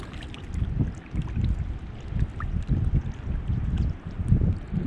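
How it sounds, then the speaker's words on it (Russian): Strong wind buffets the microphone on a fishing outing, a constant low rumbling roar with gusty surges and no voices, loud and close for the whole stretch. "Везде тишина, но ветер."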